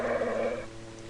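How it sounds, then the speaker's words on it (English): A watchman's guard dog in the game Broken Sword: The Smoking Mirror Remastered gives a short, low, rumbling growl, loud and close, fading within about a second with no talk over it. "It was 20, the Watchman's crazy guard dog."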